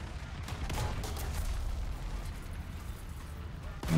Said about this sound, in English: I hear those bombs.